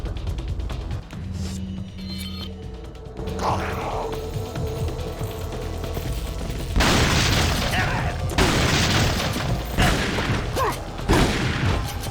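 An explosion in the video game Resident Evil 4, a loud booming blast with crackling debris and rumble bursting out after quieter game sounds, followed by further heavy impacts; a voice speaks over parts of it.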